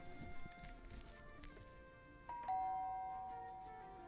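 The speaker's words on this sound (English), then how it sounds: "Now, this will mean I've got to ring the doorbell first." Doorbell chime rung at a house door in an indie video game, a bright tone with a long sustained ring that slowly fades, over soft ambient game background.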